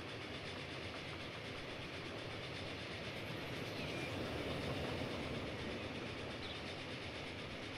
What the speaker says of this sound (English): Oh, there's a train going the other way.